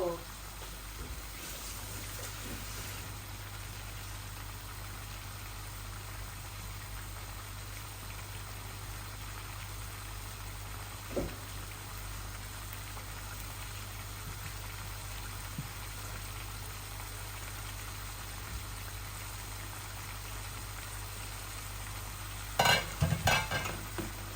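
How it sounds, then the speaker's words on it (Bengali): Chicken curry simmers and fries down in a pot, a steady low sizzle and bubbling that carries on unbroken for a long stretch, with a few brief clatters near the end. "এই যে আমার চিকেনগুলা হচ্ছে বোনা"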